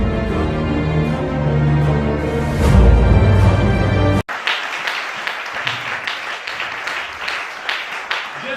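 A church congregation at a Gabonese worship service breaks into applause after a stretch of music, with a dense, steady clapping that fills the room for several seconds.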